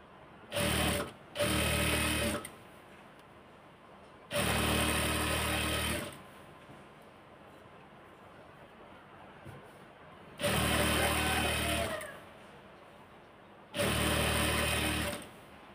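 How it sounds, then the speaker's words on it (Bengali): Sewing machine stitching salwar fabric, running in four loud bursts of about two seconds each, separated by quiet pauses. "এখন এটাকে মেশিনে দিয়ে দিচ্ছি আবারও।"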